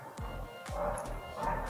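A scared dog close by gives a couple of short, sharp barks mixed with whimpering, heard alone against a steady indoor background hum.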